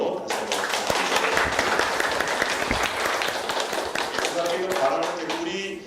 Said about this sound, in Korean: 우리 힘찬 박수로 다시 한번